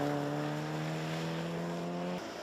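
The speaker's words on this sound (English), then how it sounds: "James taking his first seat at the wheel of the Freelander, and things seeming to be going well" A Land Rover Freelander rally car drives at an all-wheel-drive rally event, with a loud, steady engine drone holding one pitch for about two seconds before cutting away.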